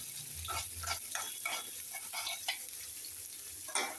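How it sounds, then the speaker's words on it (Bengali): Onions sizzle steadily in a pan while a spatula scrapes and stirs in repeated strokes every half second or so, close and moderately loud, with no voices. "এবার আমি পেঁয়াজ দিয়ে দিব এখানে। পেঁয়াজটা একটু ভেজে নিব।"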